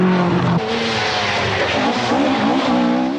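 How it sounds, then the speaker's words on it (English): A Vauxhall rally car at the 1982 Manx Rally on narrow twisting roads, its engine loud and close, revving hard with rising and falling pitch and a hint of tyre squeal. "Russell Brooks moves up to fourth position with his Vauxhall, desperate to give the manufacturer another win with the sleek racer"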